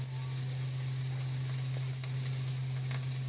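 Prawns frying in a pan, giving a steady, close, continuous sizzle over a constant low hum, with no talking.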